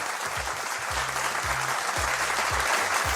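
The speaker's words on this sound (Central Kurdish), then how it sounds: "چەپڵەکانتان" An audience claps steadily in a broad, even wash of applause that holds at a moderate level for a few seconds, with no voices over it.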